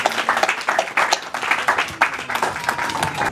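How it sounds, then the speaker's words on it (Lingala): A church congregation claps and cheers for the glory of God, quick irregular hand claps close and lively over a steady crowd murmur. "Est-ce qu'on peut acclamer pour la gloire de Dieu?"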